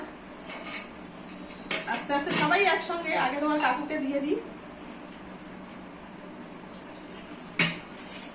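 Rice being served onto plates brings scattered clinks of dishes and cutlery, a few sharp knocks standing out, partly under people talking nearby.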